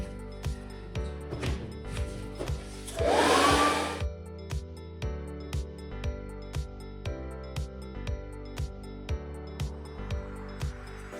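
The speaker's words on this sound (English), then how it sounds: "reheat it with a hairdryer" A hair dryer heating glue for gold leaf on an acrylic fluid art painting blows with a loud whooshing rush for a couple of seconds over steady rhythmic music playing in the background.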